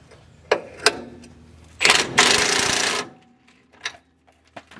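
An impact wrench tightens a rear coil spring bolt on a supercharged Cutlass, with short rattling bursts and a loud sustained hammering run of about a second, close up, followed by faint clicks.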